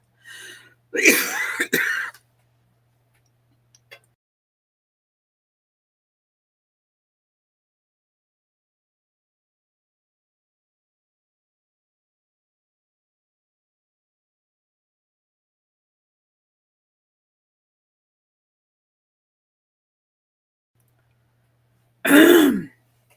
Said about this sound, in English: I am having a coughing fit.